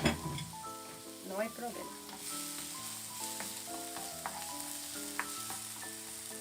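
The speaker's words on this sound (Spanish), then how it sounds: "Dejamos sofreír un poco" Chopped onion sautéing in butter for a cauliflower and egg dish, a soft continuous sizzle under background music, with a brief spoken phrase and a few louder crackles and stirs.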